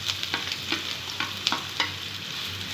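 Chopped onions and crushed garlic fry in hot oil for a Karnataka-style greens dish, a steady low sizzle broken by a few sharp scraping stirs of the spatula, close and moderately loud, with no talking.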